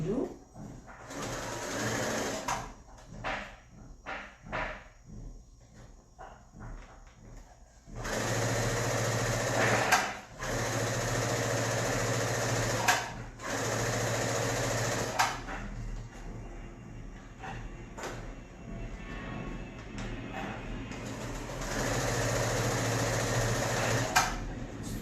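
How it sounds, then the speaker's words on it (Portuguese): A sewing machine stitches a pocket on fabric, running in several steady bursts with brief back-and-forth reverse stitches to lock the seam, loud and close, with pauses and someone talking between runs. "Costuro meu bolso e vou com um vai e vem para finalizar."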